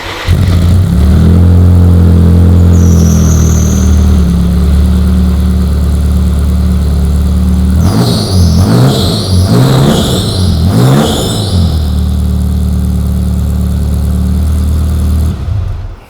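A 700hp Ferrari F40 LM supercar engine roars very loudly and close, holding a heavy drone before several sharp, rising revs in the middle, then settling back to a sustained roar before it cuts off.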